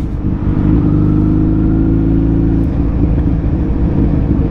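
A Suzuki Hayabusa motorcycle engine running, a loud, close, steady low rumble with a smooth hum that holds its pitch rather than rising in sharp revs, with no voices.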